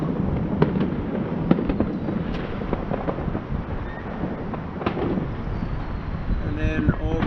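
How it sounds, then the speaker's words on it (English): Fireworks bursting at night over a city neighbourhood north of the Capitol building, heard as a steady run of distant pops and crackles over a continuous rumbling background. "There's some fireworks going off just north of the Capitol building"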